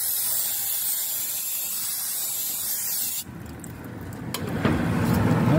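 A spray can blasts brake cleaner onto the rear brake of a Volvo V70, a loud steady hiss for about three seconds, then cuts off, leaving quieter dripping and handling noises nearby.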